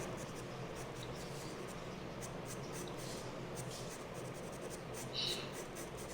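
A charcoal pencil scratching tree trunks onto paper, a steady soft scraping texture running throughout, close and faint over a constant background hiss.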